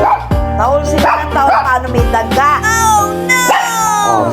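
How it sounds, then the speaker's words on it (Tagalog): Dogs bark and yip outdoors at a rat, loud, repeated excited barks with whimpering tones in an irregular rhythm, close to the listener. "So, tahol sila ng tahol paano may daga."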